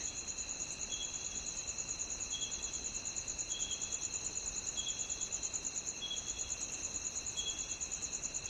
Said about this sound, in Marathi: बाहेर फक्त रातकिड्यांचा आवाज येतो आहे.